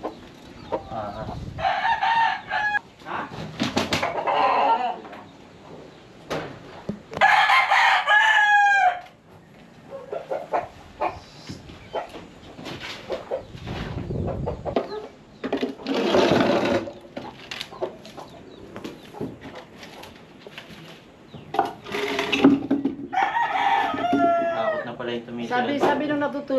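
Pet chickens around a house cluck and a rooster crows repeatedly, close by, in bursts scattered across the clip, with people talking and moving about in between.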